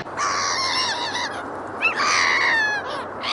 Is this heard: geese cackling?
yes